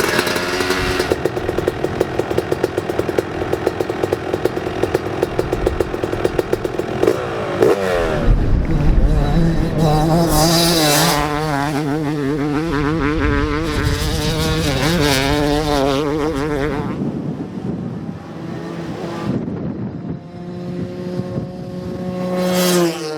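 A Yamaha YZ250 two-stroke dirt bike rips around Glen Helen Raceway, its engine buzzing and crackling at high revs, then rising and falling in pitch through gear changes and throttle blips, loud and close throughout.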